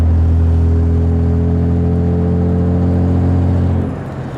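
Loud, close Cummins diesel truck with a freshly welded exhaust, a steady deep rumble that holds and then drops off near the end.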